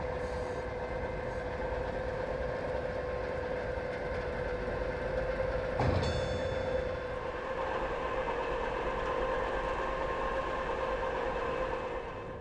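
A Ludmilla class 132 diesel locomotive from 1974, in old Reichsbahn lettering, rolls into a station with a steady rumbling drone and a sustained tonal hum, one brief louder burst near the middle.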